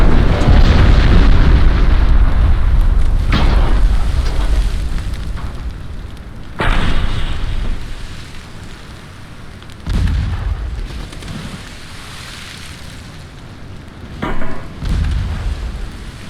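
Heavy naval guns boom and shells burst in a warship battle in Ultimate Admiral Dreadnoughts: loud, rumbling blasts roll on with sharp fresh detonations about every few seconds and a low sustained roar between them, no voices.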